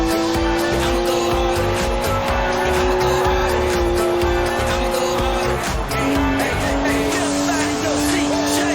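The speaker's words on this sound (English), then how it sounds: "Look at the smoke! Please leave me some tread for the drive home, Stiggy." Tires screeching during a smoky burnout in a BMW in the Forza Horizon 4 racing game, a steady loud squeal over engine roar throughout, with talk mixed in.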